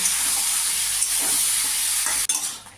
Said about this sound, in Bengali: সবজিগুলো দিয়ে এবারে নাড়তে থাকবো কিছুক্ষণ নেড়ে একটু মজতে দেবো